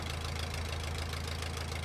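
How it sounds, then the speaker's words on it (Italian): A petrol-powered vehicle engine in the video game Demolish & Build 2018 runs at a steady idle, a constant low rumbling hum with a slight knocking pulse. "Effettivamente non fa un rumore elettrico Però non ci ho pensato che, che funzionava a benzina eh?"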